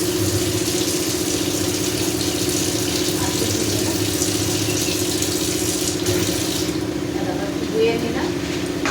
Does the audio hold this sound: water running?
yes